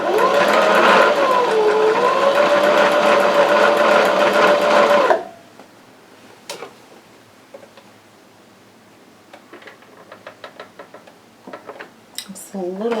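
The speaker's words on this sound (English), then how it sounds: "So let's go ahead and sew this" A sewing machine runs steadily for about five seconds, stitching pajama pants, loud and close with a high whirring motor, then stops and leaves only light handling clicks and small knocks of fabric and parts.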